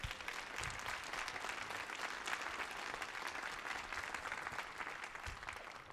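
Applause rises from the audience at a museum's Millennium Stage program featuring the Talladega College Choir, a continuous, fairly distant wash of clapping that holds evenly throughout.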